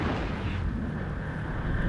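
A Vexor ship blowing up in the space game EVE Echoes, heard as a loud, dense, continuous explosive roar with heavy low rumble throughout a short burst.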